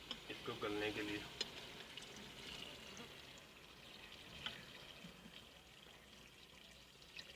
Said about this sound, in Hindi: अब हम इसमें पानी डाल देंगे इसको गलने के लिए।